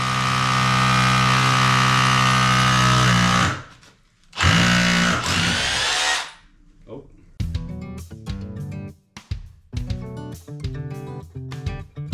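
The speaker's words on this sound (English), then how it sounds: "just drill through, bang the plug in, and then just drill through it" A power drill whirs in a long steady run drilling through a wall, stops, then buzzes again in short bursts, with someone talking in between.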